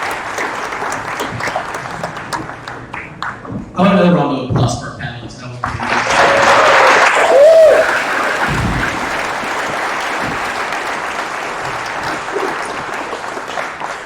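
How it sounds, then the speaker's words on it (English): An audience claps for the panelists in a round of applause, with someone speaking first and some laughter mixed in before the clapping builds and carries on steadily to the end. "I want another round of applause for our panelists."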